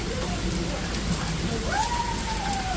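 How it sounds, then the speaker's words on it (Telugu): Hailstones pelt a car during a hailstorm, a dense, steady, close drumming patter that fills the whole stretch, with a brief rising tone near the end. "మా మీదకి కార్ మీద పలే పడుతుండే అసలు అవును పెద్దగా వస్తున్నాయి ఇప్పుడు"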